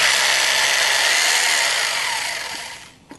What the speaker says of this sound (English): Now you're going to need a hammer drill and a 3/8 inch masonry bit.